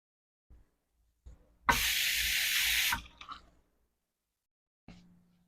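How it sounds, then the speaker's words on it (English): Hands washed under a running sink tap in an esthetician's treatment room, a short burst of spraying water lasting over a second, framed by small clicks and handling noises in an otherwise quiet space. "Wash your hands because you're about to touch your client."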